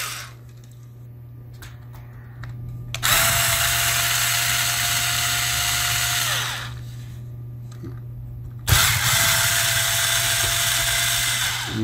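Electric screwdriver removing the hard drive caddy screws inside a Lenovo IdeaPad 100 laptop, two sustained whirring runs of about three seconds each, separated by light clicks and handling noise.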